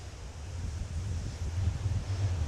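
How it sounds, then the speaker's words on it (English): Strong wind gusting outdoors on Fuerteventura, a continuous low rumbling roar with buffeting against the microphone that swells and eases over a few seconds, with no voices. "Oh, what a wind."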